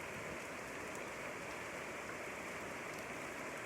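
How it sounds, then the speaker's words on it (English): Rain falling steadily among green trees outdoors, a soft, even, continuous hiss of drops with no other sounds. "The sound of the rain"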